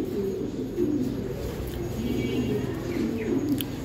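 Pigeons of an old bloodline, high-flying Giribaz racing birds, cooing in soft, low, repeated rolling calls over a steady background hum, fairly close and without talk.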